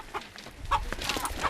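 Chickens clucking and squawking in agitated bursts while being caught by a group of men in a Nepali mountain village, with scattered scuffling noise close by and no talk.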